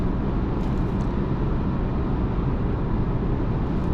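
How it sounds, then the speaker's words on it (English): Cabin of a 2023 VW Tiguan SEL R-Line cruising at highway speed around 70 mph, filled with a constant broadband rush of wind and tyre roar, loud and unbroken. "Hear a little bit of wind noise, a little bit of road noise."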